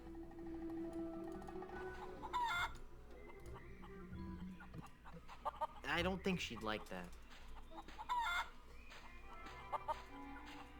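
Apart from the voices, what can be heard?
chickens clucking in video game The Curse of Monkey Island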